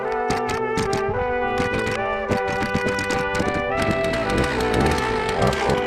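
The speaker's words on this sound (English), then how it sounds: "the Zenoa keeps on making a bubble sound even when you're not doing any cutting" A Zenoah gas chainsaw runs at a steady idle with a rapid, bubbling, popping rattle, close and continuous, with no talking.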